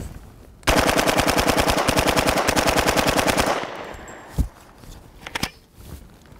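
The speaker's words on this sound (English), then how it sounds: "we're going to test out our UMP." A UMP45 submachine gun chambered in .45 ACP fires a sustained burst of incendiary rounds, a loud, rapid, evenly spaced stream of shots lasting about three seconds, followed by quieter footsteps and scattered thumps.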